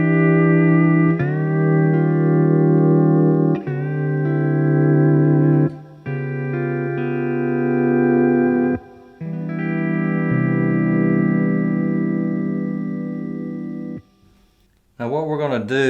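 A C6 pedal steel guitar plays a jazz chord progression, sustained chords sliding and swelling one into the next, loud and close with effects and reverb, ending in a brief higher flourish.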